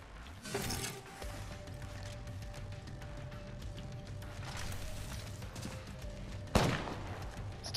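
Gunfire crackles in Apex Legends: quiet bursts of shots near the start and middle, with one sharp louder shot late on, over low game ambience and faint background sounds.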